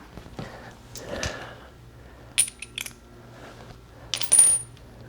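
Metal wrench sockets clink and clatter in a toolbox in short bursts during work on a 2022 Kawasaki KLR 650, with a few sharp metallic jingles between quieter rustling, close and moderately loud.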